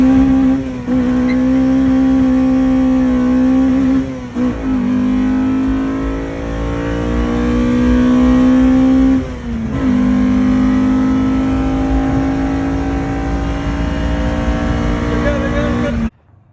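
Honda B-series car accelerating hard through a pull, loud engine note climbing in pitch three times with brief dips at each gear change, close and sustained with no talk.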